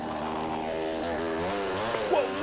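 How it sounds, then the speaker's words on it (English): A chainsaw engine runs steadily at close range, a continuous buzzing drone with strong harmonics, its pitch wavering slightly throughout and a brief higher rise near the end. "You can't cut it with a chainsaw."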